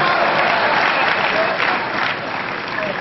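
A poetry recital audience at a kavi sammelan applauds loudly and steadily, a dense wash of clapping from a large crowd that holds for about three seconds and eases slightly toward the end.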